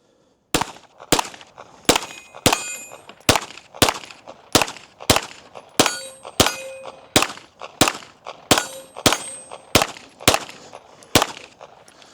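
Girsan Disruptor X pistol firing on steel targets: about fifteen sharp shots in a steady rapid rhythm, each followed by a ringing metallic clang from the plates, loud and close with no talking.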